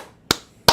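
Two sharp, separate hand claps ring out close and loud, the second about half a second after the first, with quiet in between.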